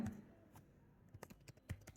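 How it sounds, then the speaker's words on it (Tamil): Soft typing on a computer keyboard, a handful of faint, scattered key taps spread over a couple of seconds, quiet and fairly close. "நான் டேக் செலக்டர் டைப் பண்ணுறேன்."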